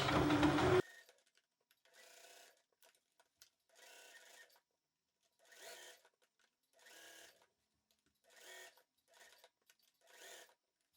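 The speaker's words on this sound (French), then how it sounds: "on coud à 1 cm tout autour" A sewing machine stitches fabric for a reversible bucket hat in seven short, regular bursts of motor whir separated by pauses, near and clear, after a brief loud noise at the start.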